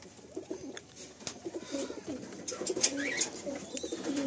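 Andhra pigeons in a pigeon loft give soft, overlapping throaty coos, fairly quiet and continuous, with a few faint chirps and light background noise.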